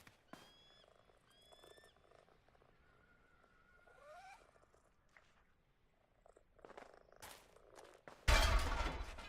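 Soft purring from cats in PowerWash Simulator 2, faint and intermittent under quiet chirps and game sounds, ending in a sudden loud burst of water spray noise.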